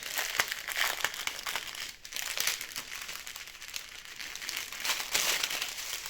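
Crinkly plastic packaging of diamond painting diamonds is opened up close, giving a few seconds of soft, continuous crackling and rustling with small sharp crinkles.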